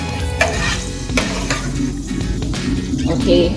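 Vegetables sauté in plenty of oil in a pot for a large batch of soup, with a steady, close sizzle and occasional stirring clinks throughout; a voice speaks one brief word.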